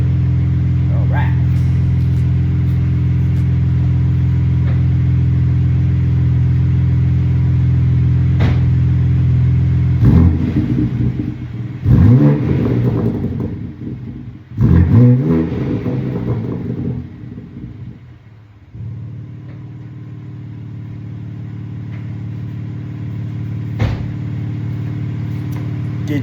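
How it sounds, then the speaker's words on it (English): A BMW M4 Competition xDrive Convertible engine idles with a deep, steady rumble, then revs hard in a couple of roaring bursts before settling back to idle. "let's get that good exhaust note real quick"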